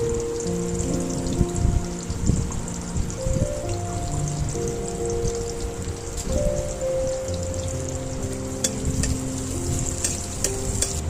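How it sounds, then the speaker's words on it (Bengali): Onions sizzle in hot mustard oil in a wok, a dense steady crackle close up, with a background hum and no talking. "পেঁয়াজটা লাল লাল করে ভেজে নেব।"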